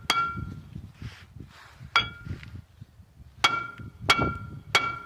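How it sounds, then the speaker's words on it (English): A small hammer striking a Fiat 500 front brake disc to free it from the hub, sharp metallic clinks ringing out about six times at irregular intervals, close and distinct with short ringing decays between. "I'm going to give it a few whacks with a hammer, just to cause a vibration to release it"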